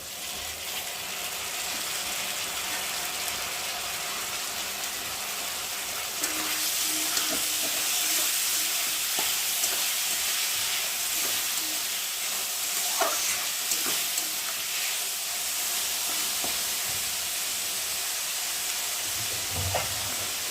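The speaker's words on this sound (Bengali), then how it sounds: "এখন এই কুচিয়ে রাখা আলুগুলোকে দিয়ে ভালো করে ভেজে নেব" Chopped potatoes sizzle and crackle in hot oil, a steady close-up fry, with occasional scraping and stirring sounds from the pan.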